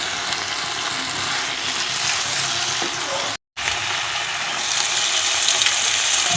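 Katla fish being fried in spice paste, a dense continuous sizzle and hiss running steadily from start to end, briefly cut off by a short gap, then returning slightly brighter.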